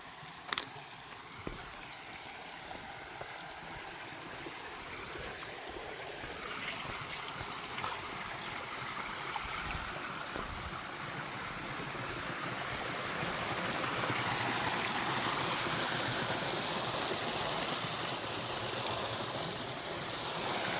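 A small outdoor stream with low flow runs steadily for the whole stretch as a soft, even rush of water, with a few faint knocks and clicks near the start and no speech.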